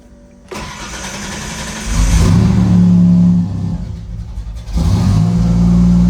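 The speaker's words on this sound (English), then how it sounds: "I still have to give it a little bit of gas when I'm starting it, otherwise it'll just fall on its face and die." Ford Ranger 2.3L turbo engine cold-starting with a crank and catch near 0.5 s, then revving up loudly twice with throttle blips and settling between, close and with no talk.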